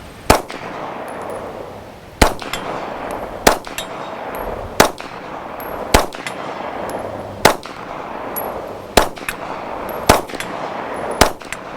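A Grey Ghost Precision combat pistol fired at a 50-yard target, a steady string of about a dozen loud, sharp shots at roughly one-second intervals, close by, with no talk.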